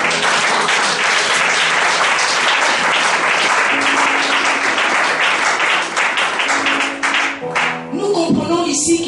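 Church congregation breaks into loud, sustained applause and cheering during a service, a dense wall of clapping throughout that thins slightly near the end.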